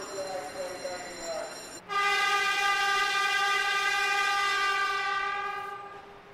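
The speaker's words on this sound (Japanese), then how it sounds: "新幹線電車の光号が走り去っていきました。" A Shinkansen Hikari bullet train from before 1975 sounds a long steady horn, loud and close, that fades as the train runs past after a softer tone at the start.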